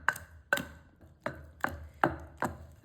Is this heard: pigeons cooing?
no